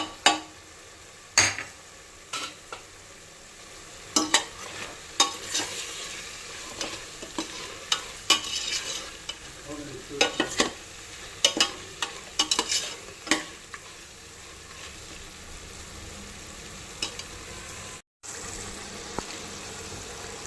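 Mutton keema with salt, turmeric and chilli powder is stirred in a pot, with irregular spoon scrapes and knocks over a soft, low sizzle, fairly quiet and close.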